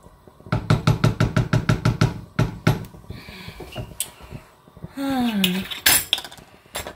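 A spoon stirs Indian-style pork blanquette in a pot with fast, rhythmic metallic clinks against the sides. Scattered knocks, a squeaky scrape and a few loud clanks of utensils follow, all close by.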